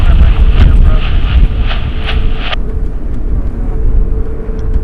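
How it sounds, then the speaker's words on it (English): A two-year-old Boeing 777 freighter, a Qatar Cargo jet at LAX, roars down the runway on takeoff, loud and close with wind rumble, the engine roar dropping sharply midway and leaving a lower, fading rumble. "it's a Boeing 777 freighter, 2 years old, now roaring down the runway"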